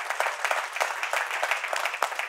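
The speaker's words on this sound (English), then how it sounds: "I'm clapping because I'm preaching to myself" Clapping during a Wednesday church service: a dense, lively patter of many hands, fairly close and continuous, with faint crowd murmur beneath.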